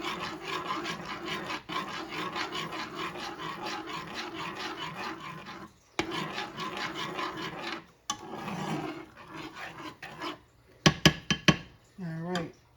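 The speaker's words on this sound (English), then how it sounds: "Give this a stir." Honey garlic BBQ chicken wing sauce stirred in a roaster oven, with steady rhythmic scraping strokes in bursts and a few sharp clinks near the end.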